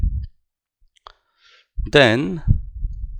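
A few faint, brief mouse clicks on a computer during a Microsoft Fabric demo, followed by someone speaking.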